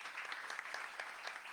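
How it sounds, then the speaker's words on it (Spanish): An audience at a school authors' meeting claps in steady applause, a brief burst of many hands, moderately distant and fairly quiet. "Un fuerte aplauso para ustedes."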